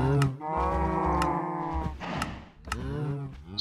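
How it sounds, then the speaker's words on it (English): Cows in a Minecraft cow farm give several drawn-out, close, loud moos one after another, with short gaps between calls and no talk. "Aye, so these are the cows."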